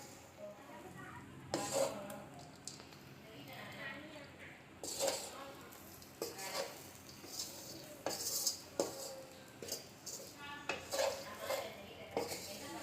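Chicken fried rice with soy sauce, cooked restaurant style, is stirred in a pan. A spoon scrapes and clinks against the metal in repeated close bursts, with a voice in the background.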